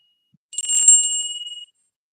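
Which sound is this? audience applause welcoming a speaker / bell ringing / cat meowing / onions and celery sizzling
bell ringing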